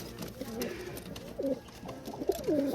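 Soft, low coos of crested pigeons repeat in short phrases over a steady background hum, fairly close and moderately loud.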